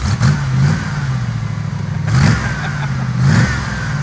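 Off-road built Ford LTD with a front-mounted muffler idling and blipping, a low rumbling engine drone with three brief revving surges spaced evenly, fairly close and loud.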